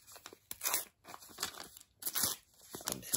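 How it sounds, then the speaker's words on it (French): Scissors cutting around the edges of a piece of paper, a few quick crisp snips and rustles in short bursts, close and fairly quiet with no talking. "On prend le morceau de papier et on va couper les bords."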